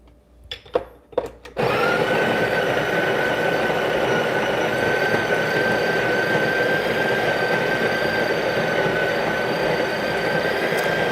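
A Breville Barista Pro's built-in coffee grinder grinds beans, a steady, loud whirring drone starting after a few brief clicks and running on without pause.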